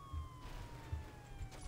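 A police car siren in the video game Saints Row 2: a faint, steady wailing tone that slides slowly downward over a low rumble of engine and traffic.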